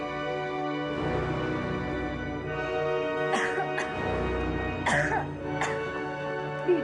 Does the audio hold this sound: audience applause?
no